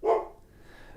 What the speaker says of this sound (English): It's just other dogs in the neighborhood.